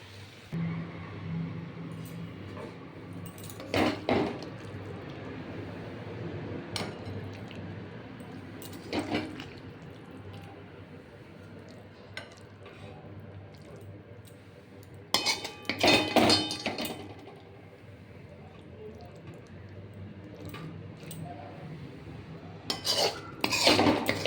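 Dishes and utensils clinking while vegetable curry is served, scattered bursts of metallic scraping and clatter between quieter stretches, close and fairly loud.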